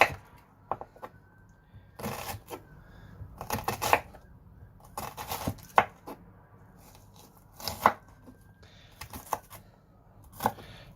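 A knife chopping onion for a basic tomato sauce, close, in short irregular bursts of crisp cuts against a board, with brief pauses between and no talking.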